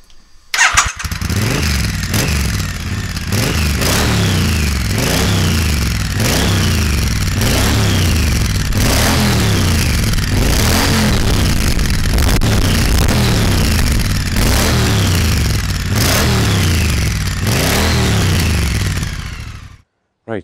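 V8 engine revving through TEC slip-on exhausts with baffles fitted and a decat X pipe: repeated sharp throttle blips, roughly a dozen evenly spaced rises and falls, loud and close, then cutting off.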